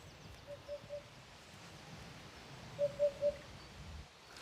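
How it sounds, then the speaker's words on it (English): Hoopoe in the Marais poitevin marshes giving two faint, distant bursts of three soft hooting notes, separated by a pause, over quiet outdoor ambience. "That's a hoopoe you can hear."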